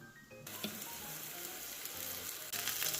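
Zucchini pancake batter sizzles and crackles in a hot pan, the frying hiss swelling louder partway through with a few soft clinks.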